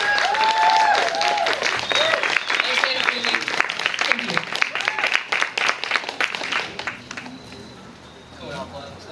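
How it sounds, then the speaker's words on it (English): A band's audience applauds loudly and steadily at a live music show, the clapping fading gradually toward the end, with a voice talking over it. "let's give another big round of applause"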